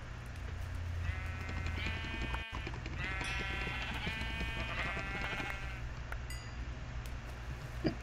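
Sheep in the Minecraft video game bleating in a few short, wavering calls over a low background hum, one bleat after another near the middle, fairly quiet.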